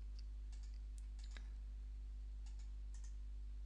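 Computer mouse clicking at a desk, several faint, brief ticks scattered over a few seconds with a low steady hum behind, quiet and close.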